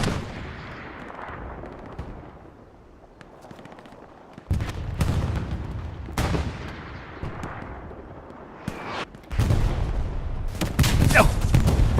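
Gunfire and rocket blasts from the World War II shooter Hell Let Loose on the Omaha map, with repeated heavy booming shots and bursts of rifle fire rolling through the battlefield, loud and layered throughout.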